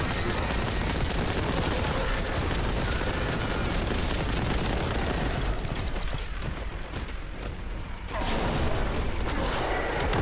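Sustained heavy bolter fire in a video game arena roars in a dense, continuous barrage with booming impacts, dips briefly near the end, then surges again at full loudness.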